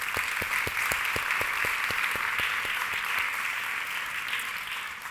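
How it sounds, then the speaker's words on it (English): Audience applause at a conference keynote, steady dense clapping held evenly throughout at a close, full level. "I think they deserve just one more round of applause."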